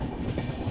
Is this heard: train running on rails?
yes